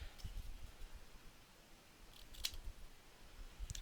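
Scissors snip off excess overhanging paper while making a corner pocket, a few faint, close crisp clicks and cuts over a low background rumble, with no talking.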